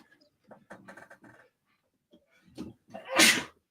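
A single sharp, loud sneeze bursts out at the end, following a few faint sniffs and breaths, close to the microphone.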